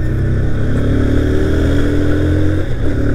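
TVS Apache RTR 160 motorcycle held in fourth gear on a road, its engine a loud, steady close drone with a slowly rising pitch, alone without talk.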